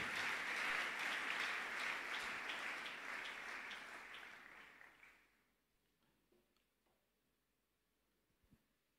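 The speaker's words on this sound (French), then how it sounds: "Nous acclamons la parole du Seigneur." A church congregation applauds loudly at first, then the clapping gradually thins and fades to a few scattered claps and near quiet.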